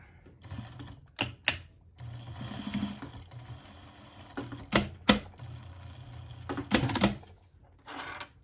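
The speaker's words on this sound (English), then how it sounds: "So I like to sew around it one time and then take it off the machine" A sewing machine stitches around a fabric fingerless glove in short repeated bursts of rapid mechanical whirring, separated by quieter pauses, close and fairly loud.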